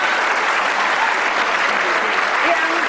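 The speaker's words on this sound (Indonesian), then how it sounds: "Kasih tepuk tangan dong Raditya Dika Syahrini" Studio audience applause on an Indonesian television talk show, a dense, loud, even roar of clapping that fills the whole short stretch without a break.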